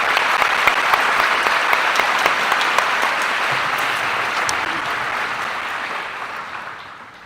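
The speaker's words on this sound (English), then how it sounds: "Please join us in a round of applause." A crowd applauds at the 2023 West Holmes High School commencement, broad continuous clapping from a large audience that holds steady and then gradually fades toward the end.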